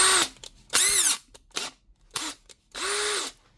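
A Makita DHP482 cordless drill, just repaired with a new rotor and brushes, whirs up in four short bursts of rising and falling pitch separated by silence, close and clear, with no voices.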